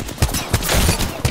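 Dense, loud gunfire in a shooter game, with close repeated shots and heavy thumps layered into a chaotic fusillade that hardly lets up.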